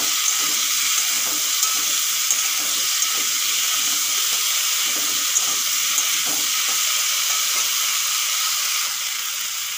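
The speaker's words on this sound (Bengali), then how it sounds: "এখন দিয়ে দেবো হলুদ, স্বাদ মতো নুন দিয়ে কলাগুলো একটু ভালো করে ভেজে নেব।" Raw plantain pieces fry in hot oil with turmeric and salt, giving a loud, even, unbroken sizzle with faint crackles throughout and no voices.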